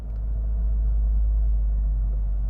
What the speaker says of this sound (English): First notice is that exhaust note.